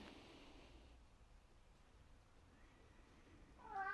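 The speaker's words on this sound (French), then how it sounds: "Dire bonjour au chat." A cat meows near the end of a quiet restorative yoga session, one short high call rising out of a faint hiss of room noise.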